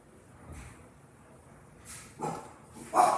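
A few short dog barks, spaced out and growing louder toward the end, with quiet moments between them.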